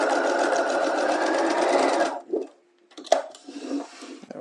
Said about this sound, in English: I'm going to shrink my stitches down and just stitch right off through the tip